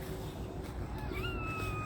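Stray cats meow and yowl while squabbling over food, several drawn-out rising cries close by over a steady outdoor background, no speech.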